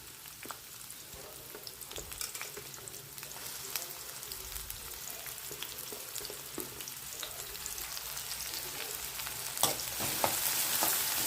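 Chopped onions frying in oil in a hot kadai give a continuous, close crackling sizzle, with scattered pops and occasional stirring scrapes that grow slightly louder toward the end.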